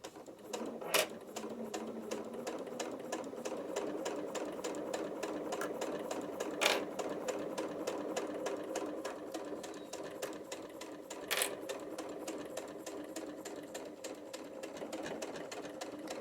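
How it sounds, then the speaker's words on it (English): A sewing machine runs in a steady, fast rhythmic stitching patter, with a few brief sharp clicks standing out; close and fairly quiet. "So when I'm doing this step on my sewing machine"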